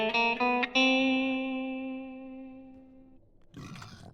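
Chromatic scale played on Minecraft note blocks: a few quick plucked harmonic tones at the start, then a long ringing tone that slowly fades, followed by a short burst of noisy sound at the end.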